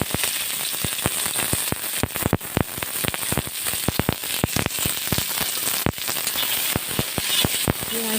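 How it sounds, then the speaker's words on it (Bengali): Chopped onion fries in hot oil with five whole spices in a wok, a loud, steady sizzle peppered with rapid crackles and spitting pops throughout. "এবার দেবো পেঁয়াজ কুচি।"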